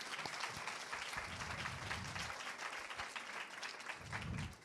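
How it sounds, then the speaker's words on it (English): Audience at an entrepreneurship talk clapping together, a full, fairly even spread of applause heard at a moderate distance, with a few low murmurs underneath. "Can we clap?"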